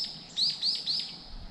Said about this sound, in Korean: 산소리, 새소리 들리시죠?